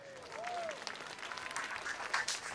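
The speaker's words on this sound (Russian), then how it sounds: "Ваши аплодисменты." Concert audience applauds after a singer is announced, a broad steady wash of clapping from a large crowd that carries on throughout at moderate level, with a faint voice briefly audible.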